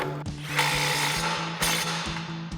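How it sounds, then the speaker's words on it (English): A ratchet with a 21mm socket tightens the outer tie rod on a RAM 1500, giving a quick run of clicks with brief pauses between strokes. It is close and fairly quiet, with some metallic ringing. "Now we'll also tighten down our outer tie rod, again with our 21mm socket."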